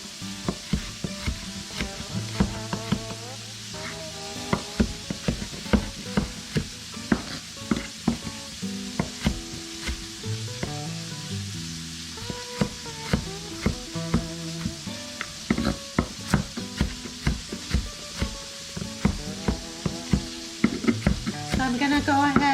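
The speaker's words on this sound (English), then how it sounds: "So I'm gonna go ahead and kind of soften these with the pork" Vegetables soften and fry with pork in a pan for green chile, a steady close sizzle broken by frequent sharp scrapes and clinks of stirring, with tonal sounds running underneath.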